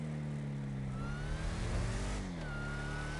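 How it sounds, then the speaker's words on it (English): A 1960s Ford Mustang Fastback roars in a video game, its engine holding a steady droning note that rises as it revs and accelerates, loud and close with no one talking. "no, it's a Mustang Fastback is what it is"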